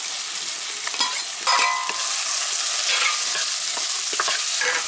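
Tomatoes drop into frying onions in a hot pan, setting off a loud, continuous sizzle with bursts of crackle and stirring scrapes, close and alone without any voices.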